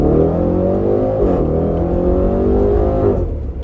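A 2020 Range Rover Velar SV Autobiography Dynamic Edition accelerates on the road, its engine note rising steadily in pitch, loud and close, then easing off near the end.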